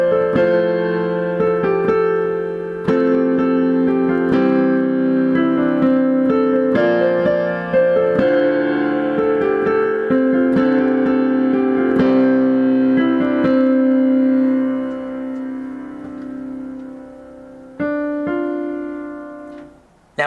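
Piano plays the chords of a song with both hands together, slow sustained chord changes and melody notes ringing close and alone, the last chords fading out near the end.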